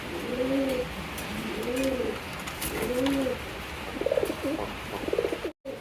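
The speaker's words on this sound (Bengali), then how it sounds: "এখানে কিন্তু আরও এক জোড়া কবুতর দেখতে পাচ্ছেন" Fancy pigeons in a market coop coo three times in slow, evenly spaced rolling calls, then give softer broken coos, close to the listener over a steady hum of background noise.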